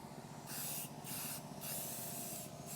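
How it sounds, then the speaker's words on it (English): Flat black spray paint hissing from an aerosol can in three steady bursts separated by short pauses, close and fairly loud with a faint background hum. "Just flat black spray paint."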